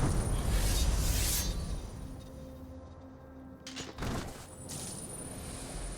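An explosion in a video game: a loud, dense blast rumbles through the opening second, fades into a quieter lingering rumble, then a second sharp burst cracks out around the four-second mark before settling into background noise.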